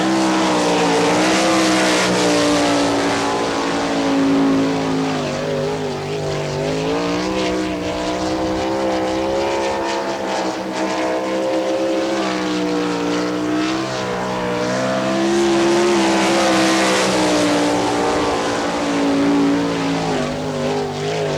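A sprint race car laps a Wichita speedway in a 1998 NCRA All Stars event, its engine roaring loudly and continuously with rising and falling pitch as it circles the track, with no talk.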